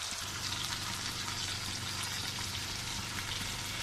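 Sardines fry in a pan with a steady, close crackle and sizzle of hot oil that carries on evenly throughout.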